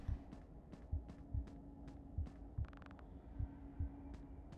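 A heartbeat in the video game Five Nights at Freddy's: Into the Pit thuds in slow, regular low beats over a faint steady hum, with a brief rattle partway through and no voices.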